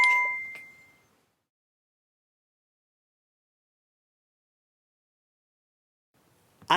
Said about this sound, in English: here comes all the notifications.